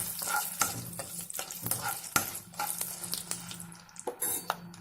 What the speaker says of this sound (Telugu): ఎండుమిర్చి వేసిన తర్వాత కొంచెం ఇలా